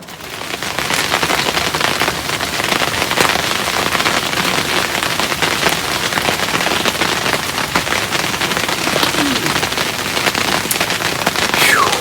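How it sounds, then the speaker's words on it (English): Steady, dense patter of sleet and rain falling around a hunting blind, a continuous hiss with scattered sharp ticks throughout, loud and close with no voices. "Do you hear that? It is sleeting."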